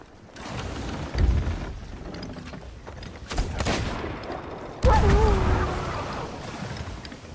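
Skeletons firing guns at the crew in Sea of Thieves, a sustained rumble of gunfire with bursts near one and five seconds, mixed with speech.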